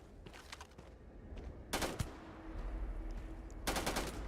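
Rapid bursts of automatic gunfire from a weapon in the space game Starfield, two loud volleys separated by a shorter burst, over a steady low rumble of game ambience.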